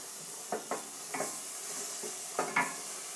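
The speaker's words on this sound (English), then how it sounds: "Carl, you're going to stir frequently" Tomato paste stirred in a pan on the stove for a roasted red pepper pasta, a spoon scraping in several short strokes over a steady soft sizzle, with no voices.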